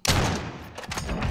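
Gunfire in a shooter video game on the Caldera map: a sharp, loud shot opens, then several more crackling reports follow in quick succession, close and punchy.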